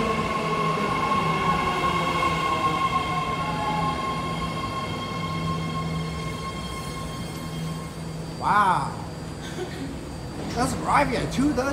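A BART Fleet of the Future train arriving at a platform rumbles steadily with a sustained metallic hum and whine, tones gliding as it slows, then brief chimes and squeals near the end.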